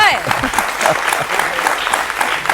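Audience applause during a televised news discussion, moderate and uneven clapping mixed with a speaking voice over it.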